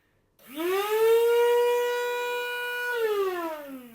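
A corded multipurpose electric blender runs empty, its motor whining up quickly to a loud, steady high hum, then dropping in pitch as it winds down, with nothing else heard.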